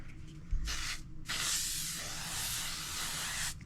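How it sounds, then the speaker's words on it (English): Two bursts of L'Oreal setting spray from an aerosol: a short hiss, a brief pause, then a longer steady spray lasting a couple of seconds, close by. "do our L'Oreal setting spray"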